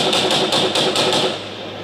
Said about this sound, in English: and then we're having the replying machine gun,